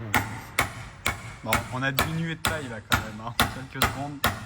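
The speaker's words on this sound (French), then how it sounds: "Le plus gros marteau de ta vie." Heavy sledgehammer blows struck on a part of a 1987 BMW E30 being fitted with an M54B30 3.0L engine, about nine sharp metallic impacts at a steady pace, close and loud, with someone talking between strikes.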